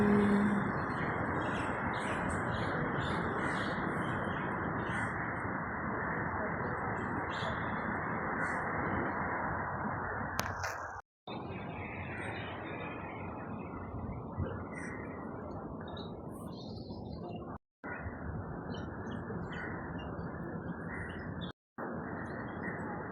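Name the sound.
birds chirping in a garden among apartments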